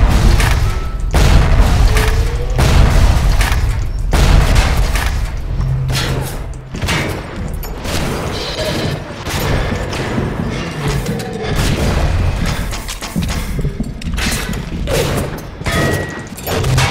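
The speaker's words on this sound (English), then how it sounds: "take him out with the frag grenade" Loud booming blasts and rattling gunfire from a frag grenade fight in BioShock, with heavy low thuds recurring throughout and dense clatter filling the whole stretch, no speech.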